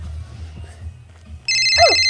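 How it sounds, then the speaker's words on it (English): A telephone begins ringing about halfway through after near-quiet room sound, its bright electronic ringtone loud and close as the warbling tones repeat. "Hey, I hear my phone."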